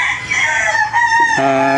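A rooster from a gamefowl breeding pen crows loudly with a long drawn-out call, other fowl clucking around it in a busy farmyard setting.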